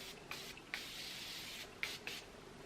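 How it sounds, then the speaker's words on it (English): A Morphe Continuous Setting Mist bottle sprays onto a face in a few short, soft hissing bursts, separated by brief pauses, faint and close with no talking. "spray a little bit of the Morphe Continuous Setting Mist on just to make sure everything is going to stay in place"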